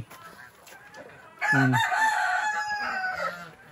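A rooster crows loudly and close by on a farm, its call rising sharply after a quieter stretch of background clucking and low farmyard noise.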